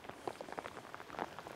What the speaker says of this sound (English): even out in the pouring down rain